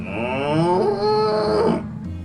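Cows mooing loudly and close, a long drawn-out harmonic moo rising and falling, with no one speaking over it.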